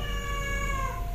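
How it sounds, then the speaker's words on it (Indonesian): A single drawn-out cat meow, fairly loud and close, rising slightly in pitch and heard alone over a low background. "pas di belokan itu ada suara kucing ngeong-ngeong gitu kan"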